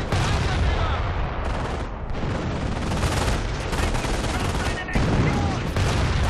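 Dense, continuous battlefield din from Company of Heroes: Tales of Valor, with artillery and gunfire rumbling loudly throughout and heavy overlapping blasts, a brief dip near two seconds and another near five, under game voices.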